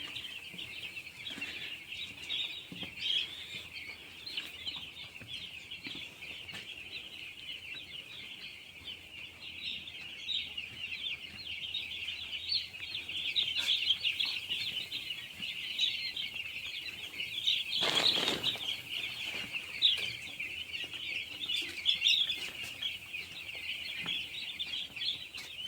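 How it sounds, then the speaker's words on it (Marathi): Three-day-old poultry chicks fill a farm shed with dense, continuous high-pitched cheeping, a crowd of many birds with occasional soft flutters and bumps, no talk. "आपल्याकडे पक्षी आल्यात आता 3 दिवसाचं पक्षी आहे ती"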